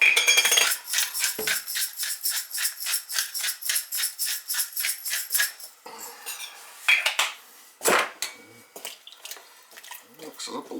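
A metal utensil stirs ingredients in a crockpot, scraping and clinking in a quick regular rhythm for several seconds, then a few slower, louder knocks against the pot, close and clear with no talk.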